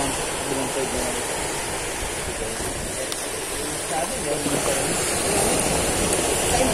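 Gentle sea waves wash onto a sandy beach in General Nakar, Quezon, a steady, soft hiss of surf that rolls on throughout, with people talking nearby.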